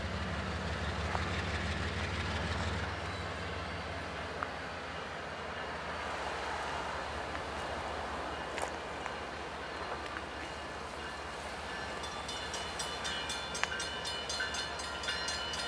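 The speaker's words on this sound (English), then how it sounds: "Got a UP train." A Union Pacific freight train passing at Irondale, Alabama, a loud continuous rumble of wagons with wheel clatter and squealing metallic rail noise building toward the end.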